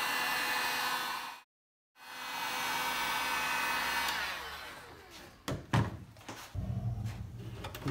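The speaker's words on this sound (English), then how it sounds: "To reseal the headlights back on, I reheat this glue and install the lens back on." A heat gun blows with a steady loud whoosh while reheating sealant glue on a 2016-17 Honda Accord headlight, briefly cutting out once, then fading into clunks and handling noises as the lens is worked.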